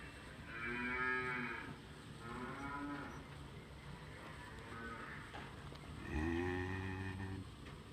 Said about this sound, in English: we should play a moo sound.